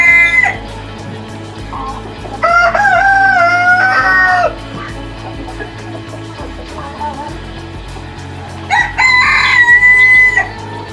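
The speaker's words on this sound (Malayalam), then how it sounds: "സിൽവർ ഷെയ്ഡുള്ള ബ്രഹ്മ കോഴികളാണ് ഈ കിടക്കുന്നത്" Silver-shaded Brahma chickens, a heavy breed whose roosters reach seven to eight kilograms, crow loudly in two long bursts with clucking and low murmuring in between, close by and with no talking.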